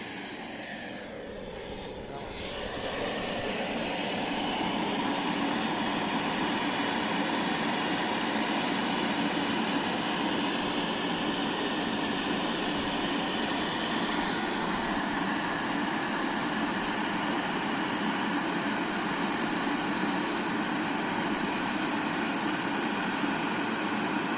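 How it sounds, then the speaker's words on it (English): A handheld gas blower starts up and settles into a loud, continuous high-pitched engine whine with a broad rushing hiss, running steadily close by without a break. "There's a handheld gas blower."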